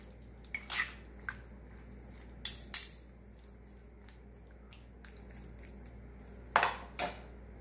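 Shrimp aguachile stirred in a stone molcajete, heard as a few sparse, fairly quiet spoon scrapes and clinks against the stone, spaced apart with long quiet gaps between.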